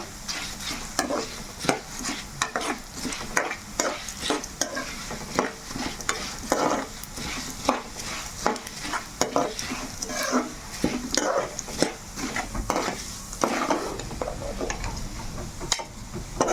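Steady sizzling of dried red chillies frying in a pan for chutney, with frequent scraping and clinking strokes as they are stirred, close and continuous throughout.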